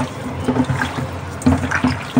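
Freshly cut river fish being rinsed with salt and water, splashing and sloshing in a few uneven bursts close by, with no talk.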